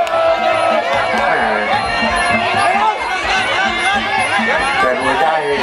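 Spectators at a Muay Thai boxing match cheer and shout in a dense, continuous roar, with excited voices and commentary blending into the loud crowd noise throughout.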